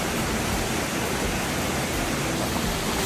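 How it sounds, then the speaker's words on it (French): A small waterfall in Martinique rushes in a loud, steady broadband roar of falling water, continuous and close with no voices. "Alors cette petite cascade,"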